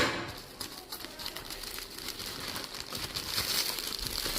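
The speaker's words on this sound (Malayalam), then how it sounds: "നമുക്കിതൊന്ന് അൺബോക്സ് ചെയ്ത് നോക്കാം" Plastic wrapping on a Flipkart delivery package crinkles and rustles as it is opened by hand. The crackling is close and busy, continuing for a few seconds with no talking.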